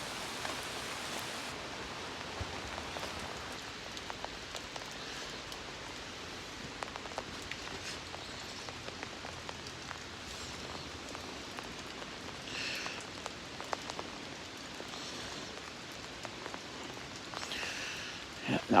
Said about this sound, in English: now we're getting heavy rain